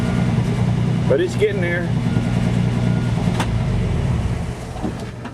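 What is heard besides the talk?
1963 GMC truck engine running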